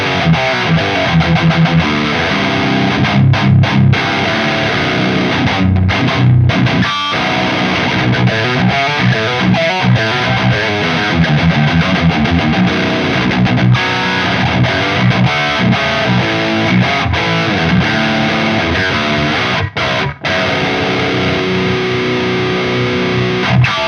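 Electric guitar played through a Horizon Devices Precision Drive pedal for heavy, tight, thrashy playing, a loud, dense, distorted tone with chugging riffs running continuously and only brief gaps.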